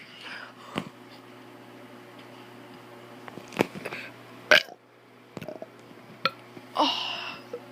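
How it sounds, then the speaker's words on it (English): A child doing a series of burps, several short croaky eructations scattered over a quiet background with small mouth noises between them, close to the microphone. "I'm going to be doing some burps."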